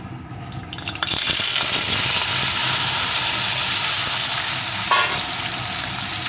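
Small local fish coated in salt and turmeric fry in hot oil, giving a loud, continuous sizzling hiss that starts after a brief clatter and carries on steadily, with no talking.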